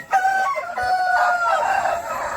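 A Rasangi rooster, a native breed on a farm, lets out a single loud, close crow that rises and holds before trailing off, with no talking.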